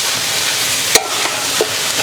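Vegetables fry in a pan with tomato paste for German rouladen, a steady sizzle under stirring, with a sharp spoon scrape or clink near the middle and another soft knock shortly after.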